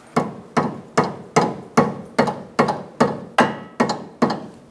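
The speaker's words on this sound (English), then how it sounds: "You may need a rubber mallet just to kind of get things in place." Rubber mallet strikes on lower control arm suspension parts of a 2002-2006 Honda CR-V, ten sharp, evenly spaced blows about half a second apart, close and loud with no talking.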